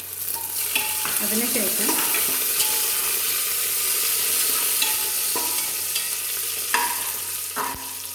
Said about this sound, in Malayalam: ഇതിലേക്ക് നമുക്ക് കറിവേപ്പില ഇട്ട് കൊടുക്കണം.